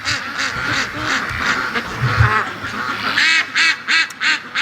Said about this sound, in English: And the ducks are working their way back